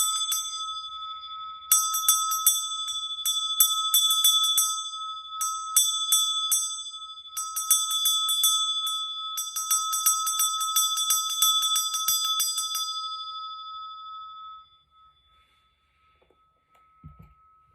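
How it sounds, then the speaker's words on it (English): A meditation bell is struck to close the practice and rings out clearly with a bright, shimmering tone in a quiet room, slowly fading to silence. "I'll ring the bell of your sovereignty, freedom,"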